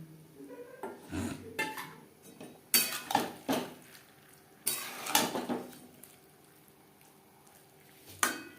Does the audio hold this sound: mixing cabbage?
yes